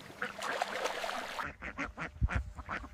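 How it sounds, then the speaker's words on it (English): A flock of Welsh Harlequin ducks heading toward an afternoon pond on a duck farm quacks repeatedly in short, clustered calls at close range, following a burst of rushing noise. "following the Welsh Harlequin duck flock toward the afternoon pond"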